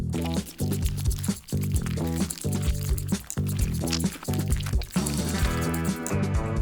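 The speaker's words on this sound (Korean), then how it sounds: "그리고 나서 내가 제일 좋아하는 액체 간식으로 채워요." Liquid snack pours and sloshes into an emptied paint container as food coloring is mixed in, steady and close, with a bright music bed playing loudly over it throughout.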